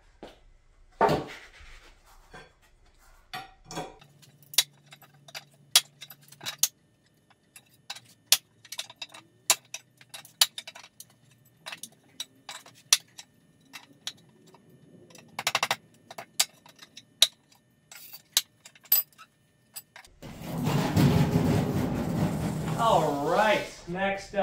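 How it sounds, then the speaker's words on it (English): Nails pried out of old pallet boards make a run of sharp clicks, scrapes and wooden creaks at irregular intervals over a long stretch, with a brief low squeal midway and talk at the end. "go ahead and pull all these nails out"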